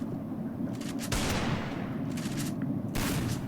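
Gunfire from the mobile battle game Free Fire during a custom match, a steady wash of rapid shots and bursts with a sharper loud volley midway and another near the end, no talking.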